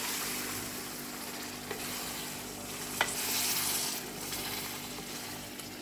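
White chickpea masala sizzles steadily as it is roasted and stirred in a pan, a continuous frying hiss with a couple of faint scraping clinks from the spoon, close and alone.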